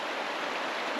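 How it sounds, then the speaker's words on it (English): Wilson Creek near Edgemont, North Carolina, flows wide and shallow over a scoured, vegetation-stripped riverbed, giving a steady, even rush of water with no voices. "This creek is wider than it should be, shallower than it should be."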